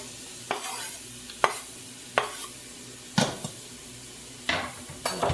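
Sliced onions cooking in olive oil in a pan on low heat, a steady soft sizzle broken by about half a dozen sharp scraping stirs at irregular intervals, close and fairly clear with no talking.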